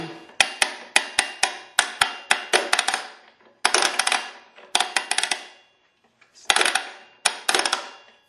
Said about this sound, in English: that clicking noise is just the motor gear mechanism ratcheting as it should, letting you turn it freely